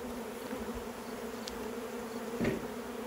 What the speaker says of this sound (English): So the bees are now mad